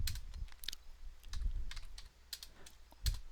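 Computer keyboard typing a command, a few quiet close key clicks scattered irregularly over about three seconds, with no voice.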